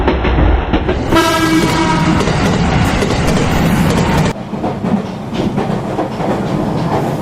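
A train rolls past loudly and close, its horn blaring in a sustained blast before the wagons rattle and clatter steadily on the rails.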